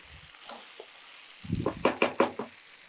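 Country chicken sautéing in a pan over a low flame, a soft sizzle broken by several close, sharp knocks and scrapes of a utensil against the pan, five or so in quick succession near the end.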